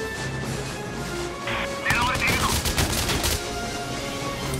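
Bursts of gunfire from the video game Valkyria Chronicles 4 crackle in a rapid cluster under game music and sound effects, with a few sharper shots standing out against the steady background.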